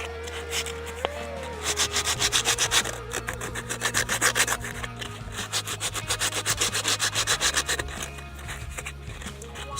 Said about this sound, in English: it's time to sand it